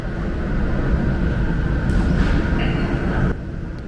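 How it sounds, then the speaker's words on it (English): A Lisbon metro red line train carries passengers with a steady, loud rumble and rail hiss from inside the carriage, an even roar that eases slightly near the end, no voices. "I hopped on the metro's red line to head straight to Eduardo VII Park."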